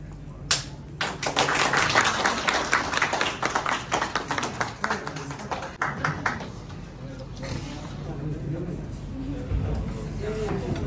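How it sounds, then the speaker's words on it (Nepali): An audience claps together at the opening of a Nepal Film Artist Association program in Koshi Province, a dense burst of applause that fades after several seconds as a voice carries on over the hall. "सम्पूर्णले ताली बजाएर साथ दिनुहोला"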